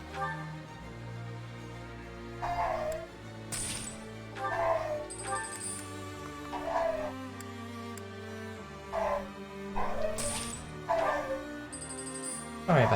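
Dogs bark intermittently in the background, a series of short, moderately loud yelps spread across the stretch, layered over steady video game music with its sustained tones.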